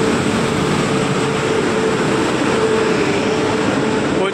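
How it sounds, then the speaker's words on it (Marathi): The Kochuveli Express rolls into the platform at Vasai Road station, a loud, steady rumbling roar of wheels and carriages with a faint high whine, sustained and close for several seconds. "ट्रेन आलेली आहे"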